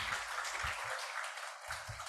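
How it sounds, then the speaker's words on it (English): Faint, distant applause from a lecture audience, a steady wash of clapping that runs through the whole moment with no talking over it. "Please give big applause."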